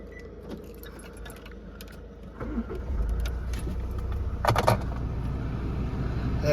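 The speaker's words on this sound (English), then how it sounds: "To start the car up, you can hear how nice and quiet it is." Keys jingle quietly before a Land Rover Discovery Sport 2.0 TD4 diesel starts and settles into a soft, low, steady idle heard from nearby, with no voices.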